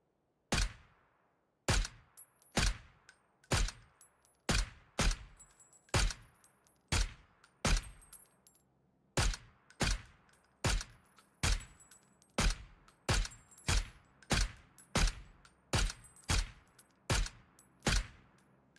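Gunfire in the PUBG console battle royale game: a long run of sharp, evenly spaced single shots, about two per second, loud and close, with no talking over them.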